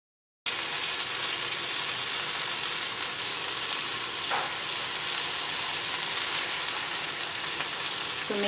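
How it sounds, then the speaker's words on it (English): Semolina crepe batter sizzles steadily in a greased pan, a close, even broadband hiss that starts abruptly and holds at constant loudness with a faint scrape partway through. "we lightly grease our pan. And we'll go ahead and add our batter."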